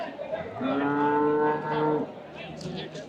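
A single long, loud moo from a cow close by, rising and holding before trailing off, with some faint background noise.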